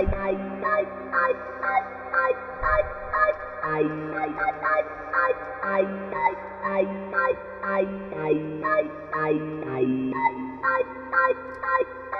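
Hydrasynth synthesizer notes ring out in a repeating pattern with a lingering reverb tail, a low sustained tone shifting beneath them.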